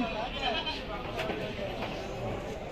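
A goat bleating at a busy rural livestock market, close and fairly clear, heard over the crowd's steady background murmur with people talking nearby.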